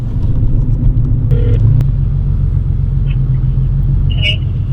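Porsche car engine idling with a steady, loud low rumble close by, a few faint clicks and a brief higher tone over the constant drone.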